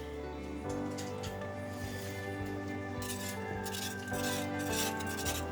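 A whisk stirs a roux of butter, flour, cream and salt in a pan for macaroni and cheese, making soft repeated scraping and light metallic clinks over a steady background hum.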